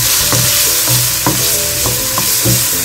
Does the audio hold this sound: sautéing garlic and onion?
yes